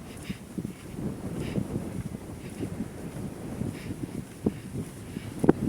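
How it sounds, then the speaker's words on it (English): Steady wind rushes past a coastal highway lined with mangrove forest near the Indian Ocean, a soft continuous low roar with gentle gusts and a few faint knocks, no voices. "And you can feel the wind, you can hear the wind"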